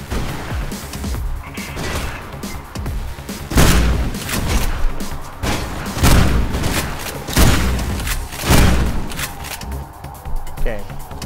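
Gunfire in the video game Mirror's Edge, bursts of loud close shots and impacts hitting at irregular intervals over a busy layer of game noise, with someone talking through parts of it.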